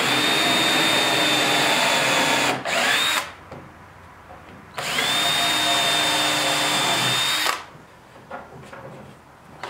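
A power drill drives screws into a thick butcher block workbench with 1-inch side pieces, two loud sustained whirring bursts each ending in a sharp stop, separated by quieter pauses.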